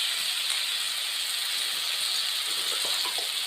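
Jackfruit pakora batter sizzling in hot oil, a steady bright hiss of frying that holds evenly throughout with small crackles and pops near the end, no voices.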